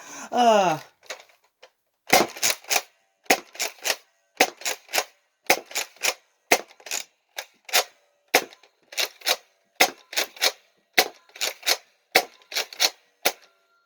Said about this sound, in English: This fired all 12 rounds.